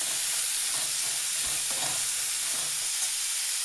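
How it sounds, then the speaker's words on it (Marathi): Pumpkin pieces cooking in hot oil make a constant, even frying hiss, dense and unbroken, with faint stirring movement underneath and no voices. "आता टाकूयात काशी फळाच्या फोडी आणि छान घेऊयात तेलामध्ये वाफवून।"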